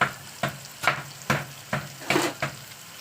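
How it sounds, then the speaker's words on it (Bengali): Onions frying in a pan for biryani, with a steady sizzle broken by about seven regular stirring scrapes, close and moderately loud, with no talking. "দেখতে পাচ্ছেন ওটা ভাজা ভাজা করে দিচ্ছি"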